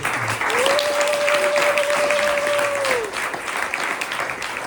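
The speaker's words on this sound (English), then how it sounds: "thank you for clapping" Audience applause after a children's presentation for a visiting monk at a school, steady clapping from a crowd with a long tonal whistle-like note over it, fading out after about three seconds.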